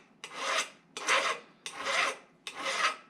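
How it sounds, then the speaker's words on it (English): A metal file rasps across a damaged, burred drill shank in four even, close strokes, each a loud scraping push followed by a short pause. "if you have one of these shanks that get all boogered up, you know, from slipping, all you need to do is take a file to it"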